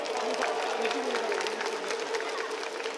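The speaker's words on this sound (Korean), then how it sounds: "큰 박수로 모시도록 하겠습니다" Dense crowd applause at a Kia Tigers baseball club event in Korea, steady and even throughout the few seconds, with voices mixed into the clapping.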